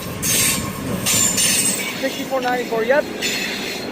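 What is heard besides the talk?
passing train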